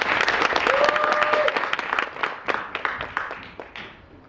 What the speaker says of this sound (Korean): 함께 박수로 맞이하겠습니다.